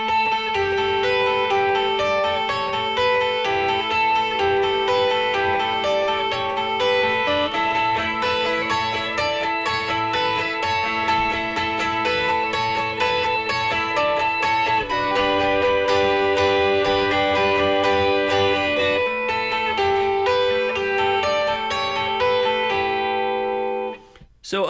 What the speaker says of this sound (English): I'll do the intro and the first verse.